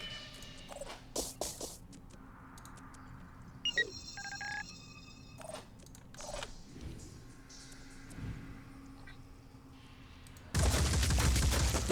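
Weapons fire in the tactical video game Phoenix Point as sparse, sharp synthetic bursts and electronic tones over a quiet background, ending in a loud, dense stretch of noise, with no talking.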